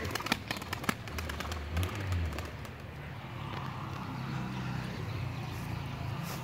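Pigeons flutter and clap their wings outdoors, with soft cooing and a constant rush of background noise.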